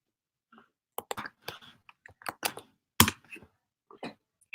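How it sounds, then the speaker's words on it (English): Scattered keystrokes on a computer keyboard, sharp clicks arriving in short irregular bursts with quiet gaps between them, close and fairly faint. "That was me typing sure."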